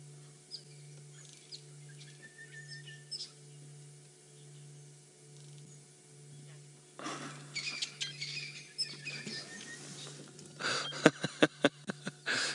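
Birds call from bush along a drainage line during an afternoon game drive, with faint chirps at first, then a burst of sharp, rapid calls and rustling close by toward the end.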